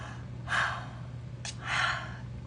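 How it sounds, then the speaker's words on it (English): A person yawns twice with long breathy exhalations, soft and close, separated by a brief sharp intake, over a faint steady low hum. "I'm gonna yawn again."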